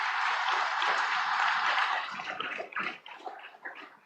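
Audience applause for the winners of the 11th National Level Exhibition and Project Competition at an Inspire MANAK felicitation ceremony, a dense sustained clapping that thins and becomes more scattered toward the end, with no talk over it.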